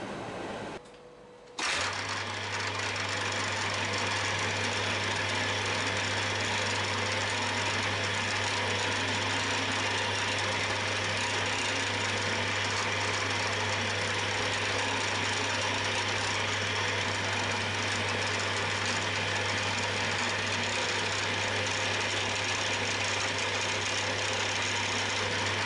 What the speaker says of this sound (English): we've got a hole to drill and tap in this, which we'll do next